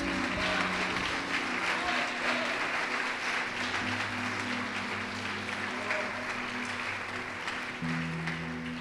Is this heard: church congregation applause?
yes